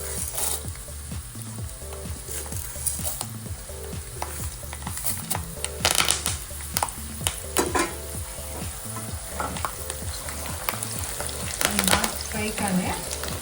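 Chana dal and urad dal frying in hot oil over a medium flame for temple-style lemon rice, a steady close sizzle broken by repeated stirring scrapes and sharp crackles that flare up now and then.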